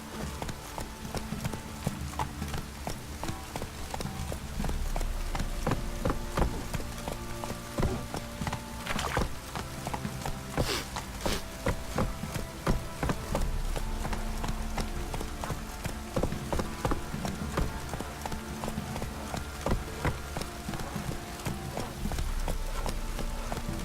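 A horse's hooves galloping in The Witcher 3, a steady fast clip-clop rhythm close up and loud, layered over continuous game music and ambience throughout.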